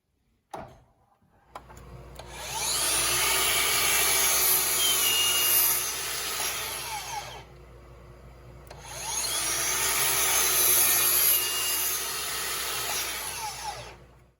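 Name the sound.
Makita cordless miter saw cutting wood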